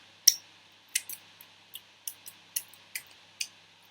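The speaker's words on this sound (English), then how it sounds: "that's the sound of me licking my fingers." A run of about nine short, wet smacking clicks, close and quiet, in an irregular rhythm with brief pauses between.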